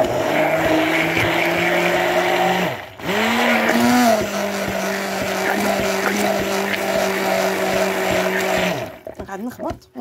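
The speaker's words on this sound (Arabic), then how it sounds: "فوالا ونحكم الميكسر تاعنا، فوالا نحكم البرا تاعنا ونقعد نخلط" A handheld electric mixer beats layer-cake batter made with cold milk. Its steady motor whine is loud and close, briefly dips near the three-second mark, then runs on before cutting off near the end.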